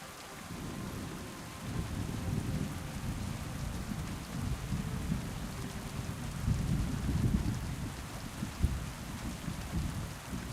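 Steady heavy rain with rolling rumbles of thunder during a thunderstorm in a video game, continuous and fairly loud, with a sharper crack near the end and no voices.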